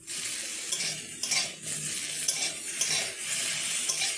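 Salted cauliflower frying in a pan for a dal and cauliflower-pea curry, a steady close sizzle with spatula scrapes and light metal clinks as the pieces are stirred.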